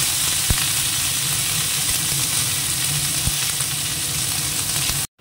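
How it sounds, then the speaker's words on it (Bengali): Vegetable peels frying in hot oil with dried and green chilies, a steady close sizzle with a few sharp pops, continuous until it cuts off at the very end. "এবার এর মধ্যে খোসাটা দিয়ে একটু ভেজে হয়ে যাবে।"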